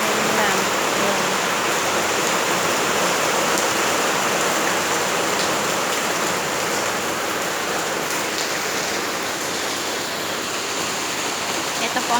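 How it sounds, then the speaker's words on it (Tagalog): Steady rain falls outside a house in Abu Dhabi, UAE, a loud, even hiss of drops on surfaces that continues without a break throughout. "It's a raining day for Abu Dhabi, UAE."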